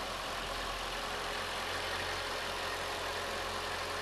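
A 2003 Mercedes-Benz SL55 AMG with its handmade supercharged V8 idles steadily, a smooth, continuous low hum close by with a faint even background, no voices.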